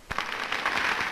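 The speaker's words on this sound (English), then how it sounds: "cheer the nominees of the Progressive Party, Henry Wallace of Iowa and Glenn Taylor of Idaho" A crowd of 30,000 at a Progressive Party rally cheers and applauds nominees Henry Wallace and Glenn Taylor, a dense, continuous roar with clapping that swells after a sharp onset and holds steady.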